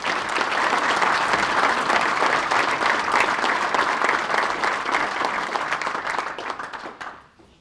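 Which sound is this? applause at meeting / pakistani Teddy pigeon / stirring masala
applause at meeting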